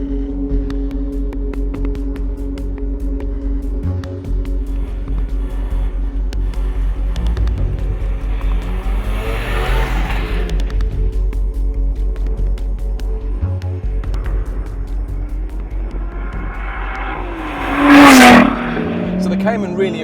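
A Lotus Evora S engine droning steadily at speed from inside the cabin on a race track, with gear changes, shifting revs and a brief loud whine near the end.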